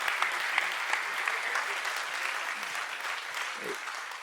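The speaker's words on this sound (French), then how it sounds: "on peut l'applaudir très très fort" A festival audience applauds Jean-Luc Martin of the Vieilles Charrues at the West Web Festival, with a dense, sustained burst of clapping from a large crowd filling the room.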